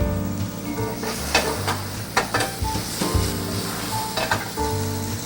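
Pineapple chunks sauté in a hot pan, a steady close sizzle with bursts of crackle and the scrape and clatter of stirring running through it.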